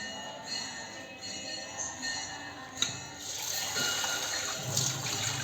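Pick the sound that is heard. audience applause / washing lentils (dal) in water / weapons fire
washing lentils (dal) in water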